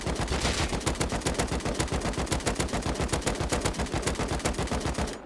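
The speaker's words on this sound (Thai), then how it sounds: "เดี๋ยวไปนั่งยิงนะ" Rapid automatic gunfire from a crouching player in the video game Rust, a steady stream of evenly spaced, loud, close shots running nearly unbroken for about five seconds.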